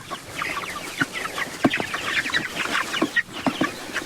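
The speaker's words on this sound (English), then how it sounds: "I think the chicks like it, and as you can tell in there, they're going to town just wearing it out." A flock of meat-bird chicks clucks and peeps steadily while eating a grub treat during morning chores. The busy chatter is close and continuous, with frequent sharper calls.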